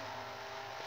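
A car engine in a racing video game holds a steady, bright, high-pitched roar under acceleration, loud and continuous without a break.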